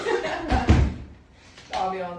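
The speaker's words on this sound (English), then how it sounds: "Do you mind if I close this door?" A door shuts with a solid thump mid-way through, set between bits of close conversation indoors.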